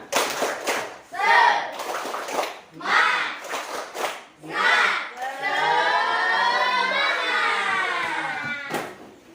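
A classroom group claps rhythmically while chanting together in a cheer, with bursts of claps and voices shouting in unison, then a long sustained group shout near the end.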